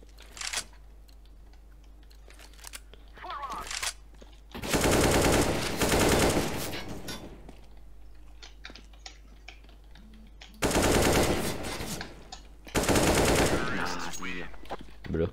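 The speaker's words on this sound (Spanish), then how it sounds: "Solo dos tiros antes del headshot." Rapid bursts of automatic gunfire in a shooter video game come in several loud clusters, separated by quieter stretches of clicking and occasional talk.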